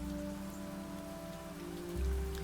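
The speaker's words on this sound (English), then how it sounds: "Again, rain is great." Rain falls steadily in the video game Niche, a soft continuous patter with a faint tonal game hum beneath it and a brief low swell near the end, with no talking.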